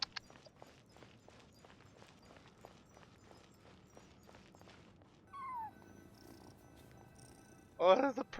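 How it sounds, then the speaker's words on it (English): Cat purring in the video game Genshin Impact: a soft, low, continuous rumble running under a steady patter of game footsteps, with a brief brighter cry and chime near the end. "that's a purring sound"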